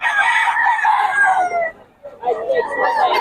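A Sweater bloodline gamefowl rooster crows nearby, two loud, drawn-out calls split by a brief pause, with voices of people in the background.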